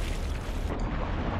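In the Black Mesa video game, a creature blows up a bridge, heard as a loud, sustained explosive rumble that fills the low end throughout and drops its hiss partway through, with no voices.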